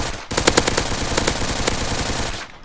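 A G18 gun fires in Minecraft, a loud rapid burst of evenly spaced shots lasting about two seconds with no voices over it.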